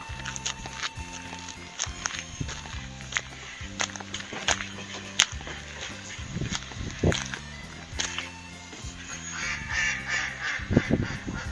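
Several ducks quack repeatedly in uneven bursts, fairly close, with footsteps and scuffling underneath and no talking.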